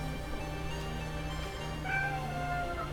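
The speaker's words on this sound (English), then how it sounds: "You think all this meowing's gonna get you something?" A cat meows insistently over a steady low hum, with drawn-out harmonic cries that rise near the end, heard in a game session setting.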